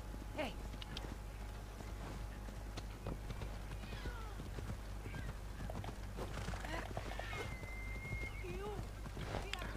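Horse hooves clip-clop in a steady rhythm in Assassin's Creed Odyssey, moderately faint beneath a low background hum with scattered game sounds.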